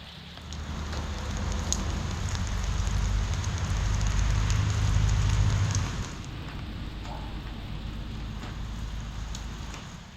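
Steady rain falls, a dense, even hiss of drops on surfaces with a low rumbling undertone that eases slightly partway through and then continues at a softer level to the end.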